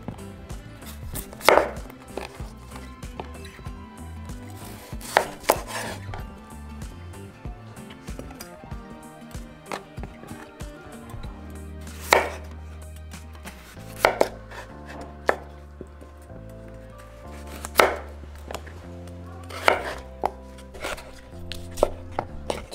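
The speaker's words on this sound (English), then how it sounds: "if you want your vegetables to be smaller, you can always, you know, cut them the way you want them" Knife chopping chayote and potatoes on a cutting board, a long run of irregular sharp knocks, sometimes in quick bursts and sometimes spaced apart, close up over faint kitchen background.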